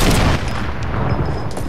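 Dense, loud burst of rapid gunfire in Fortnite Battle Royale, a continuous crackling volley filling the whole moment.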